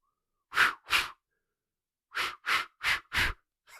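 A person imitates a deer's alarm snort with sharp, breathy blown whooshes: two quick blasts, a pause, then four evenly spaced ones, close and loud.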